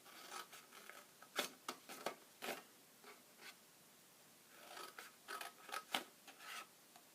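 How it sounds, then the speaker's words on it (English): Scissors snip through an Easter box paper template in a quiet room, with several short bursts of cutting spread over the stretch, some in quick runs and some on their own. "So you're going to cut to the middle."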